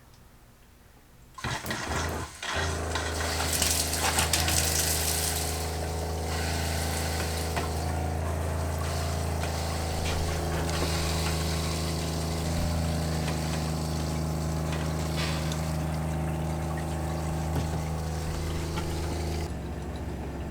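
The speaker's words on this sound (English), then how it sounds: "we're gonna put on the water pump. You can hear it." A small campervan water pump starts up after a moment of quiet and runs continuously with a steady droning hum and rushing water, close by.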